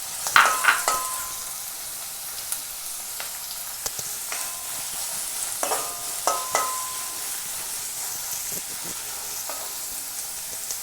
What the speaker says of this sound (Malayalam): എണ്ണ ചൂടായി വന്ന് അതിലേക്ക് നമ്മൾ ഒരു വലിയ സവാള പൊടിയായിട്ട് അരിഞ്ഞത് നമ്മൾ ഇട്ടിട്ടുണ്ട്.